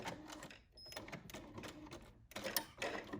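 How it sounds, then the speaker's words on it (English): A sewing machine stitches fabric back and forth along a marked line on a blouse: rapid mechanical chattering bursts broken by brief pauses, quiet and close. "I will take it to the sewing machine and stitch along the marking"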